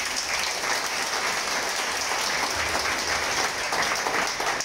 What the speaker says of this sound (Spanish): ¿Qué tal si le das un aplauso al creador?